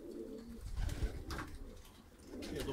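Baku broad-tailed pigeons cooing, soft low throaty coos repeating a few times, close by, with rustling and light background noise.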